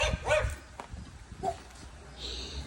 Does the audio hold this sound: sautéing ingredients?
no